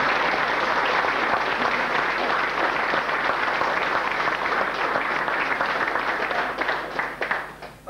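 A festival audience breaks into a sustained round of applause at a 1993 international music festival in Coalisland, dense steady clapping from a large crowd that thins and fades toward the end.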